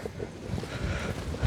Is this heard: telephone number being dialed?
no